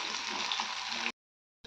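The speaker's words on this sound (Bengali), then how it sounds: "তো এখানে একটু করলাটা ততক্ষণ ভাজা হোক, যেহেতু করলাটা দেবো তরকারিতে।" Bitter gourd frying in a pan for a curry gives a steady, moderately loud hiss of sizzling oil, which cuts off abruptly after about a second.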